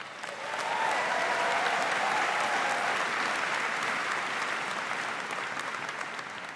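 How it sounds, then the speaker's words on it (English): A large commencement audience gives the university choir a steady round of applause that swells within the first second, holds dense and even, then tapers slightly toward the end. "How about another round of applause for our Moravian choir?"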